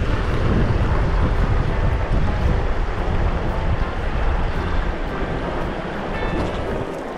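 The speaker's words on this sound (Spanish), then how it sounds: "hay mucho viento" Strong wind gusts buffet the microphone beside a river in Chile during fly-fishing preparation, a loud continuous rumbling roar with flowing water beneath and no talk.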